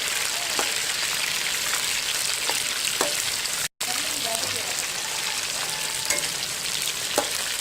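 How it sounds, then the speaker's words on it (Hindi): Chicken fries hard in a pot of hot oil, a dense, loud, continuous sizzle like heavy rain with occasional pops, broken only by a split-second gap midway. "चिकन को आपने अच्छी तरह तल लेना है।"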